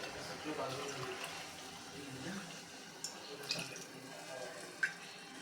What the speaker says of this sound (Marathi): तर इथे आता मी पाणी घालून घेते